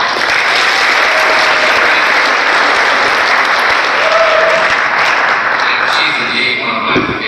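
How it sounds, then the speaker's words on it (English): Loud, sustained audience applause at a county council budget proposal meeting, a thick continuous roar of many hands clapping at an even level from start to finish. "Can we give you another round of applause?"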